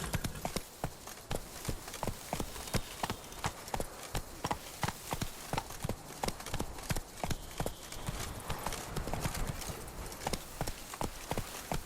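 Roach, the horse from The Witcher 3, gallops in a fast, even rhythm of hoofbeats that continues throughout at moderate loudness, with no clear neigh.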